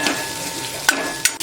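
Malvani masala roasts in oil over a low flame, a soft continuous sizzle broken by a few sharp clicks of a spoon stirring against the pan.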